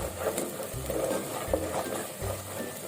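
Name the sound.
biryani masala frying in oil on medium flame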